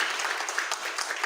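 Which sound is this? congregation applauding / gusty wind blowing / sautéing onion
congregation applauding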